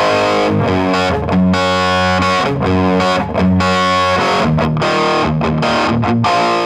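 Electric guitar through a Vox AC30 OneTwelve combo amp, distorted chords ringing with long sustain at low volume, played alone with short breaks between strums.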